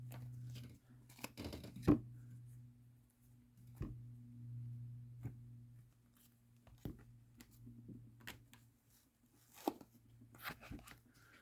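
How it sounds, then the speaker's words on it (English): Tarot cards being shuffled, heard as intermittent soft riffles, taps and scrapes in short irregular bursts over a faint steady hum, with no talking. "It's the stand for me shuffling the cards"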